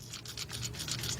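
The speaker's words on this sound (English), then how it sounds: "what you hear is the washers flying around" Loose washers rattle inside a new starter motor for a 1981 Chevy G10 van with a 5.7 350 engine, making a brief, faint, scratchy jiggling in quick uneven bursts.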